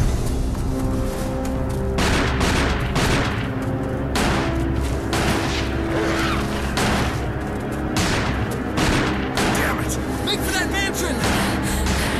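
Barry's revolver firing in the Resident Evil remake game, a series of loud evenly spaced heavy shots ringing out over a continuous background rumble, with voices talking between blasts.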